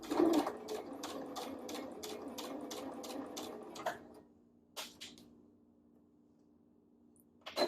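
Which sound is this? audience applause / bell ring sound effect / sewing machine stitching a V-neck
sewing machine stitching a V-neck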